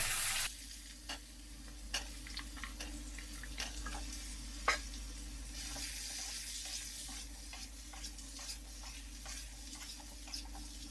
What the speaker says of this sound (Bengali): বেগুন আর আলুটাকে আমি ভেজে নিব।